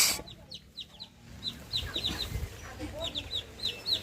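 Chickens cluck repeatedly at a rural homestead, a string of short squawking calls at moderate distance over a low background murmur, with no clear talk.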